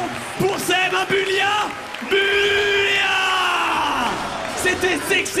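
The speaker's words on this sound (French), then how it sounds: "Et victoire en plus, applaudissements." A crowd at a Toulouse game show event erupts in cheers and whoops after a fighting-game victory, loud bursts of shouting and applause swelling and fading over several seconds.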